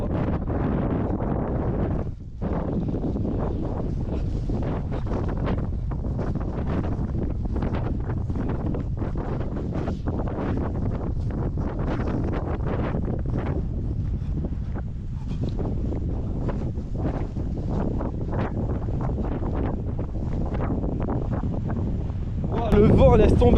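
Strong wind buffets the microphone on a 39 km trail race, a loud continuous low roar with gusty surges lasting throughout, briefly dropping near the start.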